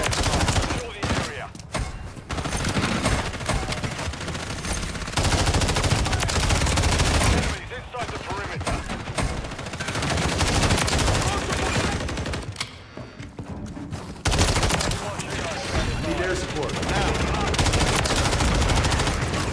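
Bursts of MTZ 556 rifle fire in Call of Duty MW3, rapid automatic volleys repeating loud and close with short pauses between them, over game sound effects and occasional voice lines.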